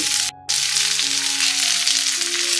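Okra pieces fry with onions in a pan for Andhra-style bendakaya pulusu, giving a loud, steady, close sizzle that cuts out briefly once, with faint tonal background music beneath.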